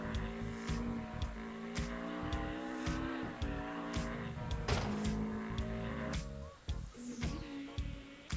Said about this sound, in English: Lambo sounds just like the Audi.